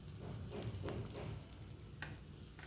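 Small banana and rice-flour pancakes cook on a hot dosa griddle, giving a soft, steady sizzle and light patter that runs continuously at low volume, with a brief brighter crackle near the end.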